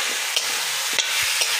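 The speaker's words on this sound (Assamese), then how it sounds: "এতিয়া আলু আৰু মাংস একেলগে দি দিছোঁ।" Potatoes and chicken frying together in a pan over a wood fire, a steady broadband sizzle with a few soft scraping stir strokes, close and alone.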